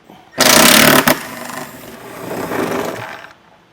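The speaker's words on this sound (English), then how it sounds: "we're going to start by removing our spare tire cover using our M13 socket" Power tool with an M13 socket spinning off the spare tire cover bolts on a 2024 Jeep Wrangler Unlimited: a loud, harsh whirring burst, then a longer, softer buzzing run that cuts off.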